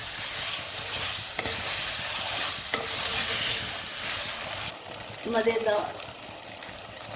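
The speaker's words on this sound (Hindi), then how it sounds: "इसको भी भून लेंगे थोड़ा सा।" Potato and chicken bhujia stirred and fried in a pan, a steady loud sizzle with scraping stirs, quieter toward the end where a brief voice cuts in.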